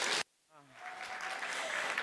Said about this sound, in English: Can we give ourselves a round of applause again, Honorable Members?